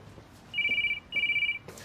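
A telephone rings in two bright electronic bursts, each about half a second long, with a short gap between them and faint background noise around them.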